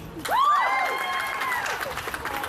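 Audience applause and cheering voting for a contestant at a Walk A Mile in Her Shoes sexual assault awareness event, a crowd burst that swells quickly and holds steady, with a loud whoop or shout rising above the clapping.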